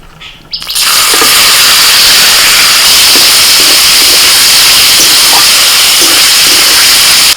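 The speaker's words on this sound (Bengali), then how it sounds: "তেল গরম হয়ে গেছে ম্যারিনেট করা চিকেনটা দিয়ে দিচ্ছি" Marinated chicken drops into hot mustard oil in a wok and bursts into a loud, sudden hissing sizzle that stays steady and intense for several seconds.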